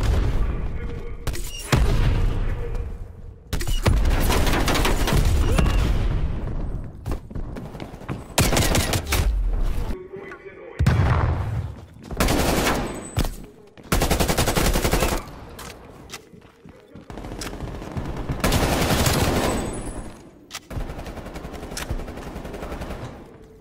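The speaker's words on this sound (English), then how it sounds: "War machine firing for effect." A war machine fires for effect in bursts of loud, dense gunfire, with booming volleys and sharp pauses between them. The bursts sound close and heavy, and a little talk cuts in.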